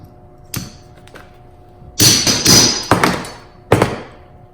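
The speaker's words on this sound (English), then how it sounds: "We're going to use our trusty hammer and dolly and get it as good as new." Hammer and dolly knocking a dent out of a crushed diecast Christine movie car, a few sharp metallic taps followed by a quick cluster of louder whacks, close and alone.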